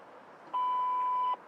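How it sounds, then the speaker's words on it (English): A single steady electronic tone from a radio time signal marking the hour, clean and sustained for nearly a second over a faint background hiss. "At the tone, 0 hours, 44 minutes, coordinated universal time."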